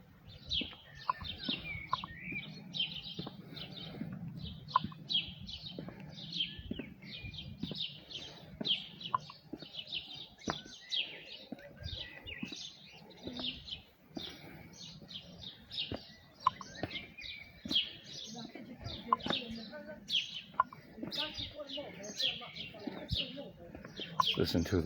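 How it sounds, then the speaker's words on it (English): Many birds chirp and sing continuously in the distance at the Slavin Memorial in Bratislava, Slovakia, with overlapping calls and a faint murmur of activity underneath. "Listen to the birds."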